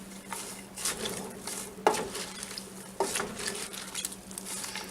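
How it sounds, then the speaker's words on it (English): A spoon stirring French onion soup in a pot, with soft, irregular scraping and patter plus a couple of sharper clinks against the pot, fairly quiet and heard with no talk. "We're going to give that a little stir"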